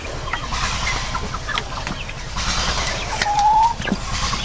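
Household poultry cluck softly among general yard noise at feeding time, with scattered short calls and a brief higher squawk near the end.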